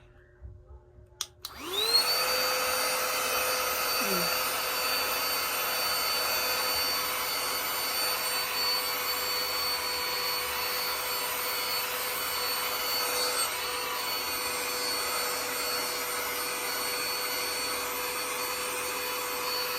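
A portable vacuum cleaner used on a very dusty air conditioner switches on after a brief click and then runs as a steady high-pitched whine with a continuous motor hum, close and loud for the rest of the clip.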